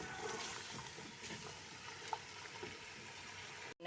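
Turnips frying with meat in a pot for a turnip-and-meat bhujia, giving a steady soft sizzle and bubbling hiss at close range, with a few light clinks and a brief sharp drop near the end.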